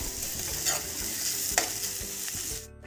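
Ginger, garlic and onion sautéing in a pan for white aloo korma, a close, continuous sizzle broken by a few sharp stirring scrapes before cutting off abruptly.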